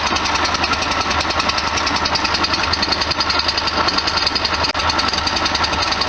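A 1973 VW Super Beetle engine runs at idle up close with a loud, steady, rapid clattering rumble that does not change, and no voices.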